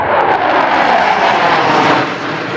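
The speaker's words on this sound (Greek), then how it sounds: "Μαχητικά αεροσκάφια απέδωσαν τιμές την ώρα που η ελληνική σημαία υψωνόταν στο φρούριο του Φυρκά." Fighter jets roar overhead during a flag-raising ceremony at Firkas fortress in Crete, marking the anniversary of Crete's union with Greece; a loud, sustained broadband engine rush holds steady throughout, easing only slightly near the end.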